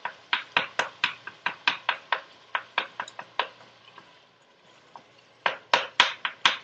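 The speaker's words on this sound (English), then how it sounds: "you have to keep mixing with the onions, carrot, and celery." Meat is stirred with chopped onion, carrot and celery in a pan for a ragout bolognese sauce, making a steady run of scraping, clacking spoon strokes with a brief quieter pause before the rhythmic stirring resumes.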